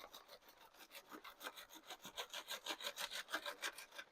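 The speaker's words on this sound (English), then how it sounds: "it's sifting this loose soil down in here" A sifter is shaken side to side over loose soil, giving a steady rhythmic scraping and rasping, roughly two to three strokes per second, close and fairly quiet with no voices.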